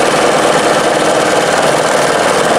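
A serger sewing machine with an extension table runs at speed, a loud, steady, close mechanical whir and buzz with a fine rapid stitching chatter, unbroken for the whole stretch.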